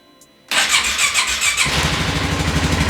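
An ATV engine cranks and fires up after a short quiet moment, a brief starter whine giving way to a loud, steady idle close by, with no talking.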